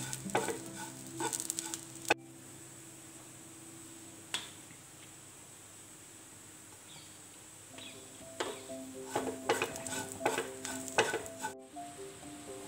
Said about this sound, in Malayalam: തേങ്ങ ഇതുപോലെ ചുമന്ന് വരുന്ന സമയത്ത് ഒരല്പം മഞ്ഞൾപ്പൊടി ഒരല്പം മുളക് പൊടി അല്പം മല്ലിപ്പൊടി എന്നിവ ചേർത്തിട്ട് നന്നായിട്ട് ഇളക്കി കൊടുക്കാം